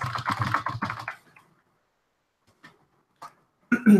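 Rapid keystrokes on a computer keyboard, a burst of clustered clicks up front, then a near-silent gap broken by a few isolated taps, ending with a louder clatter.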